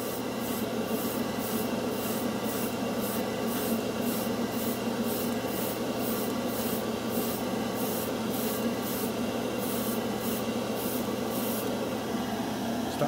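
An airbrush hisses steadily as it sprays lacquer across a model spoon at a workbench, a continuous close airy spray with a faint regular pulsing throughout.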